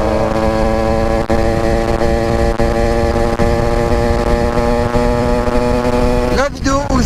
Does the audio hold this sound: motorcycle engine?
yes